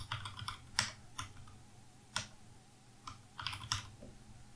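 Computer keyboard typing a password during Fedora 43 setup, close quiet key presses in short irregular clusters with pauses between them, no talk.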